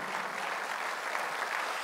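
A church congregation claps steadily in a dense, even burst of applause that fills the short moment without a break.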